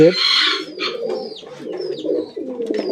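A young almond pigeon coos close by in soft, rolling low murmurs that run steadily, with a brief higher chirp or squeak above them.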